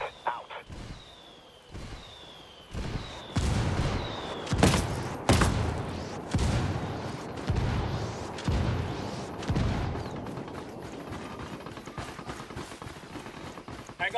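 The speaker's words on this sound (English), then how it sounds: "I'm calling for indirect fire." Indirect artillery fire strike called in during Ghost Recon Wildlands gameplay: a run of loud booming impacts and bursts at irregular intervals, with heavy rumbling and crackling debris between them, fairly close and dominant throughout.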